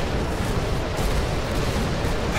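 Rockets fire and explode in a video game battle, a continuous roaring, rumbling wall of blast noise, loud and unbroken throughout.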